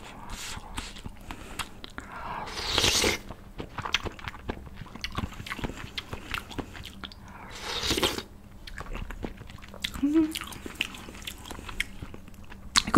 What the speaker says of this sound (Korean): 국물 한입 먹을게요.